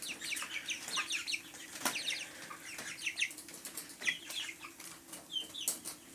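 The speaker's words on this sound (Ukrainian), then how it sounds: "Ну, ось такі бройлери в мене вже." Young broiler chickens, a little over three weeks old, cluck and cheep in a busy overlapping chorus with occasional wing flaps, close by in a farmyard setting with no talk.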